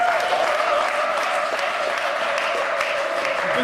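A church congregation applauds the Lord in loud, dense, sustained clapping from a large crowd, with a sung or held tone running underneath.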